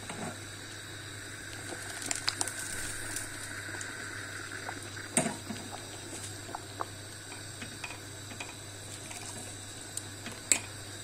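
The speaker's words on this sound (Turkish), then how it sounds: "Çorbamız da kaynıyor." A pot of lentil soup simmers on the stove with a low steady bubbling hiss, scattered small pops and ticks breaking through now and then.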